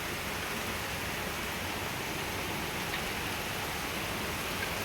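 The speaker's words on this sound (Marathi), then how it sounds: "हे बघा पाऊस किती चालू आहे बाहेर. बंद झालेलाच नाही अजिबात पाऊस." Dense, steady hiss of heavy rain pouring down continuously, even and unbroken, with no voices.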